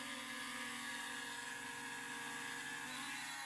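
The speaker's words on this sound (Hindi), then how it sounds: "देखिए चला गया वो ड्रोन।" A budget P60 GPS drone flies nearby, giving a steady, high-pitched buzzing whine from its propellers and motors that holds at an even level with no speech.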